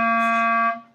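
A single tongued C on a reed instrument, a steady harmonic-rich tone with a crisp attack that holds for most of a second and then fades, played alone with no voices.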